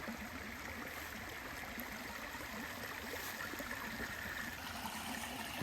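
Small waterfalls spill over limestone along a blackwater creek preserve, making a constant, even rush and gurgle of flowing water at moderate distance, with nothing else standing out.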